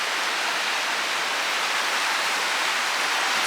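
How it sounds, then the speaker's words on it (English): A creek flows past a two-story inn in Maggie Valley, North Carolina, giving a steady, even rush of water that stays loud and continuous with no voices over it. "all of those rooms you can sit outside and enjoy the creek,"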